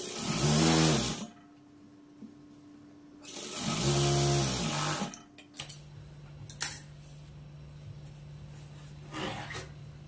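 A tailoring sewing machine runs close by in two short bursts of rapid stitching while a straight seam is sewn on a blouse band, with faint handling clicks and quiet rustling between the runs.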